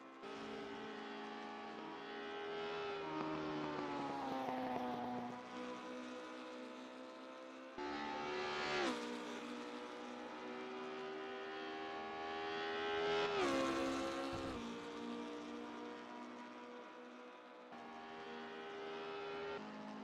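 A race car engine on an out lap in a sim racing game, loud and close, its tone climbing steadily through the gears and dropping at each shift, repeated over several upshift cycles with no talk.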